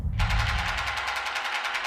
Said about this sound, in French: L'origine des coups de feu se précise, ils proviennent de ce bâtiment précis.